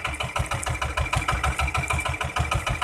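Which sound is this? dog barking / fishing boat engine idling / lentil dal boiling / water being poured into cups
fishing boat engine idling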